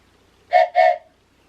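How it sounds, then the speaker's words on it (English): A hand-held train whistle sounds two quick, bright toots in a row, close and fairly loud, with quiet before and after. "make a little holder for your train whistle"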